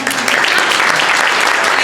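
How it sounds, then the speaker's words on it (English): Applause for Cora Schroeder, District Coordinator for Congressman Paul Tonko, at a women's rights event; steady, dense clapping fills the room loudly and evenly throughout, without pause. "Give her a round of applause."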